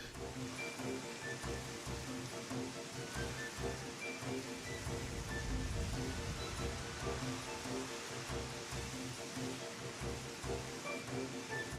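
Rain falling in Final Fantasy XIV, a soft, steady hiss of drops with a low rumble swelling midway, faint and continuous with no voices.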